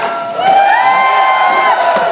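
A loud, enthusiastic studio audience of park guests at a Fear Factor stage show cheers and whoops, a sustained crowd roar with rising shouts that holds for a couple of seconds.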